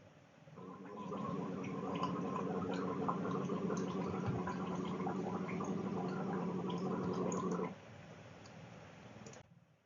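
A gurgling liquid sound bubbles steadily for about seven seconds, close and fairly quiet, then fades out.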